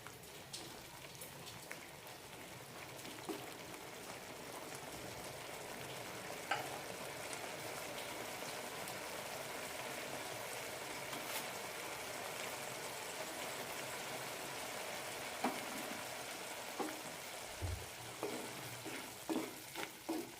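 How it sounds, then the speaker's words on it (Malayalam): Egg curry bubbling in a pan makes a faint, steady simmering crackle with occasional soft pops, and no voices are heard. "ഒരു മിനിറ്റ് കൂടി നന്നായി തിളപ്പിക്കാം"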